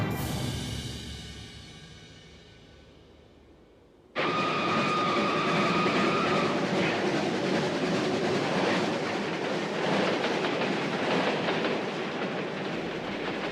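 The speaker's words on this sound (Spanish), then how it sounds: "unos trenes abarrotados atravesaban el territorio de la URSS" A crowded train crossing the USSR in summer 1945, a decaying tone fading out before the loud steady rumble and clickety-clack of railway cars rolling past begins abruptly, with a brief whistle-like tone early on, continuous and close.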